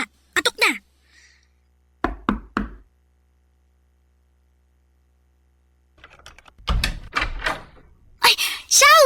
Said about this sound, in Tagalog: Kumatok ka na.